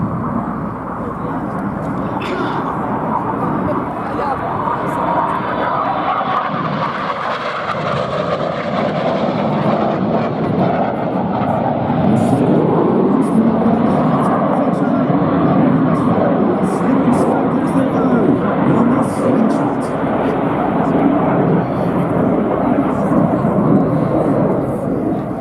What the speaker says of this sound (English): The aircraft will reverse and cross in front of you 100 feet apart in the